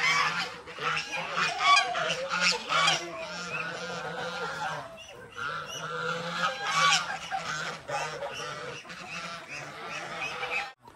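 Native geese honk loudly and repeatedly up close, a flock calling over one another in overlapping bursts with a brief lull midway, alongside ducks and turkeys in a farmyard pen.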